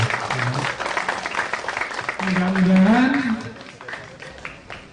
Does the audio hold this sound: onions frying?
no